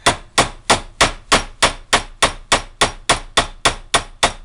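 Steady hammer strikes on a metal Jeep axle part while fitting U-joints, about a dozen sharp clanging blows in an even rhythm, close and loud, with no talking.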